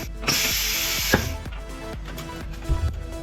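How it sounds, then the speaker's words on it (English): A spot welder joins a looped metal strip, giving a series of sharp, evenly spaced clacks and zaps, roughly two to three per second, over a brief hissing buzz at the start. "And now you spot weld it."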